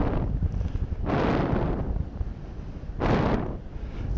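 Wind roaring across the microphone while paragliding over the coast at La Guimorais near Saint-Malo in a 20 to 30 wind, loud buffeting rumbles arriving in strong gusts close to the mic.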